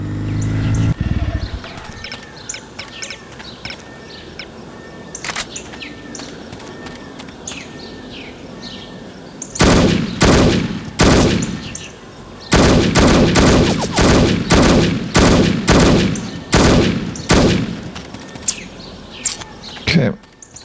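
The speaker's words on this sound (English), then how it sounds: "Let's shoot them from back here." Heavy gunfire from the video game No One Lives Forever erupts in loud repeated bursts after a quieter stretch, with rapid shots clustered in a long second half and brief gaps between volleys.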